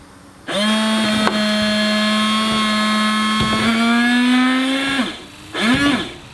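Windshield washer pump on a supercharged lifted Miata spraying water: a loud, steady electric motor whine running about four and a half seconds, then a brief second burst, close up with no talk.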